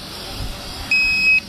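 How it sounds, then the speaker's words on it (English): A Sky Viper Fury stunt drone remote control gives a short, bright electronic beep tone lasting about half a second over a low background hiss. "Remote beeping, and the sport and normal button is flashing back and forth"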